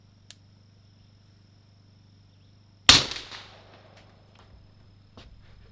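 A single suppressed shot from a Rock Island 1911 .45 ACP pistol: one sharp, loud crack with a short decaying tail, followed by faint clicks and small handling noises in an otherwise quiet setting.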